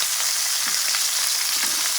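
Fideo noodles searing in a hot pan for Puerto Rican sopa de fideos con pollo, giving a steady, close crackling sizzle with soft stirring scrapes and no voices.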